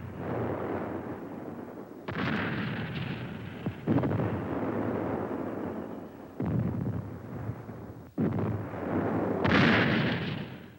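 Navy ships' 8- and 16-inch guns firing artillery shells, several heavy booming blasts spaced a few seconds apart, each followed by a long rumbling decay.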